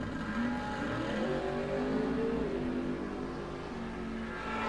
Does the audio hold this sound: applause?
no